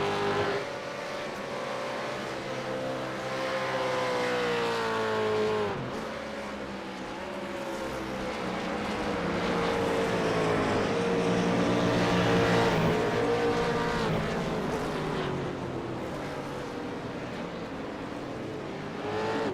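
VS supercars race at Phillip Island in iRacing, with a steady, loud engine drone whose pitch climbs and falls through gear changes and corners, several cars blending into one continuous howl.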